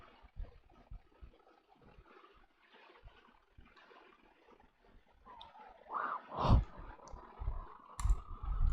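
Computer mouse clicks on a PC, a scattering of faint, sparse clicks followed by a few louder, sharper clicks close to the microphone, with no talking.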